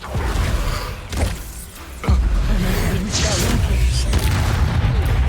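Bombarda and Confringo spell blasts in the Hogwarts Legacy video game: loud, booming bursts with whooshing swishes and a heavy thump near the two-second mark, set against continuous battle noise and some voice.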